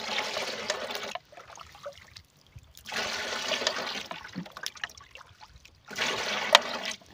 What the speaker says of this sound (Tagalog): Dagdagan ko muna ng tubig.